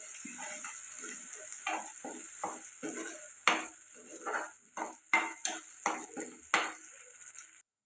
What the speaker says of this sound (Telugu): ఇప్పుడు ఇది బాగా ఫ్రై చేసుకోవాలి పచ్చివాసన పోయేదాకా